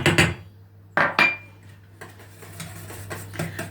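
An egg mixture being stirred in a bowl, with a few sharp clinks of utensil against the dish followed by softer scraping and tapping, no one speaking.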